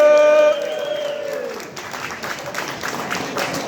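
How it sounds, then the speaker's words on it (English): A pub crowd at a farewell gives a round of applause for a departing staff member, a steady wash of clapping that follows a brief held tone and continues at moderate volume to the end. "So, big round of applause for Alex."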